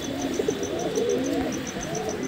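Domestic pigeons in a rooftop loft coo in repeated low, throaty rolls, close and fairly clear. A higher steady tone and light background noise sit beneath the calls.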